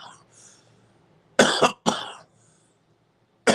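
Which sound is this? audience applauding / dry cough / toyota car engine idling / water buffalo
dry cough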